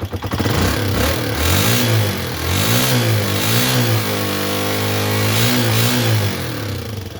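A tricycle motorcycle engine revs up and down repeatedly, loud and close, its pitch climbing and falling with each throttle blip over a steady running drone, with no talking.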